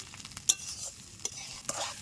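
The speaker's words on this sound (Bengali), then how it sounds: "চালটা ভালো করে ভেজে নিচ্ছি" Rice for ilish pulao fries in a pan, a soft continuous sizzle broken by a few sharp scrapes and clicks of stirring, close and fairly quiet.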